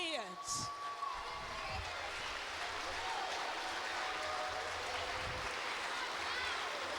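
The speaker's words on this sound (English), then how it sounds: "give these kids a round of applause, a standing ovation" An elementary school audience claps for children at a Martin Luther King Jr. remembrance program, sustained dense applause filling the room with voices and a few shouts mixed in.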